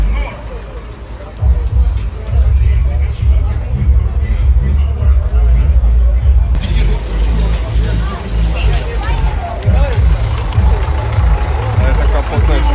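A bonneted Scania truck's diesel engine rumbles steadily at a truck show, a loud low drone with a crowd chattering and people talking around it throughout.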